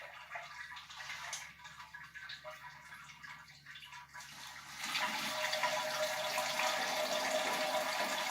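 Sparge water pouring steadily into a large brewing pot for homebrewing beer, starting moderately then growing louder and fuller after a few seconds.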